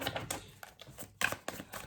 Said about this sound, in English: We do a little more shuffling than usual.